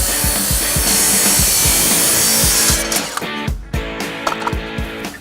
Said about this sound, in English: I've just jerry-rigged a carbide blade in my skill saw, which doesn't really fit great.